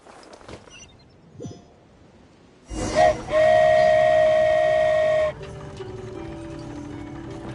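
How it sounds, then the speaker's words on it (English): A flying train in Genshin Impact sounds a loud, sustained whistle for a couple of seconds after a burst of rushing noise, then a fainter rumble carries on; soft scattered sounds precede it. "I've never been on a flying train before."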